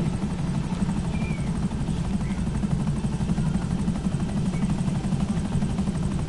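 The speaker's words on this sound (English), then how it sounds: "I do not feel safe around a helicopter." A video game helicopter's steady rotor thump and engine drone fill the scene continuously, loud and close, with no pauses.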